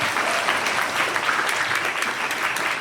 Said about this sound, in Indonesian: Tepuk tangan sekali lagi untuk mereka.